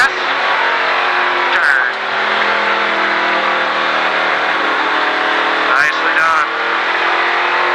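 Race car engine roaring steadily at high revs on an oval track at the Richard Petty Driving Experience at Disney, loud and close throughout, with brief dips as the driver eases off and a coach's voice talking over it.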